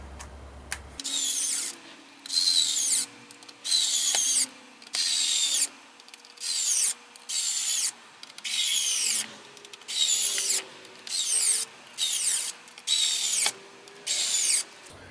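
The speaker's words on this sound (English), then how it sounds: "I still have some screws to tighten" A power driver tightens screws on the top cover of a Rostock MAX v3 3D printer, giving about a dozen short, loud whirring bursts in a steady on-off rhythm with brief pauses between them.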